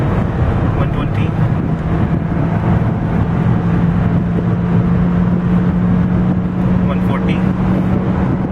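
Ford Fiesta automatic engine revving hard near the red line while accelerating past 100 km/h on a road test, a steady loud drone with strong road and wind rush, and a person speaking over it.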